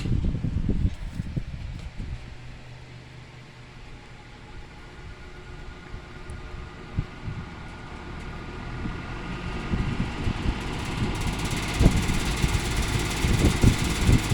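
A vintage Dominion model 2066 box fan with a dent and a non-original clamp starts up on high, a steady whooshing hum with a faint rattle that grows louder and busier toward the end.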